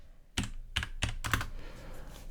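Several short bursts of keyboard typing on a computer while working in a spreadsheet, four quick clusters of clicks close to the microphone, then quiet room tone.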